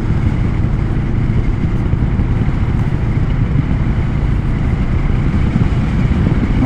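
A 2025 Moto Morini Calibro Bagger 700cc motorcycle is being ridden, its engine a loud, steady drone mixed with rushing wind and no clear rise or fall in revs.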